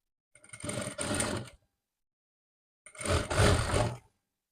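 Sewing machine stitching trim onto a nightie neckline, two close bursts of rapid mechanical whirring about a second long each, separated by a short silence.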